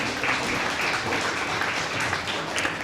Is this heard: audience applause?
yes